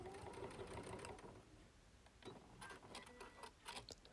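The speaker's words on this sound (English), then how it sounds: "stitch on top of the seam you've already worked just by a little bit, just to secure it, and reverse stitch" A sewing machine reverse-stitches over the seam of a bordered Christmas napkin, a quiet, close mechanical whir that pauses briefly and then resumes with uneven stitching clicks.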